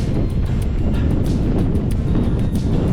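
Steady wind buffeting a microphone during the last miles of a long marathon training run heading into a headwind, a continuous low rumbling roar with no pauses, loud and close throughout.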